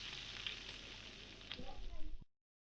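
Bacon fries in a pan, a dense, crackling sizzle heard close up that holds steady and swells a little louder before cutting off abruptly.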